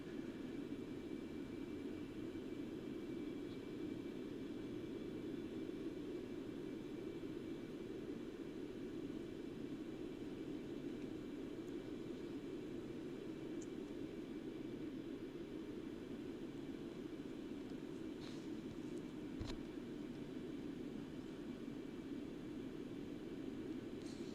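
Concorde jet engines in the X-Plane 11 flight simulator, a steady, unbroken roar of cabin engine noise lasting throughout, with no talk.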